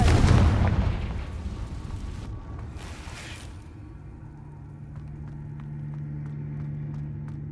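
A Confringo blasting spell from Hogwarts Legacy goes off in a loud, booming explosion at the start. It rolls off into a fading rumble and leaves a low, steady hum.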